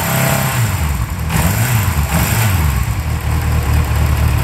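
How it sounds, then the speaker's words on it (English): A Yamaha XJ6 N motorcycle engine idles close by, a steady mid-pitched rumble with slight wavering and occasional sputter, no talk. "Sounds blooming lovely. Perhaps does need a bit of choke,"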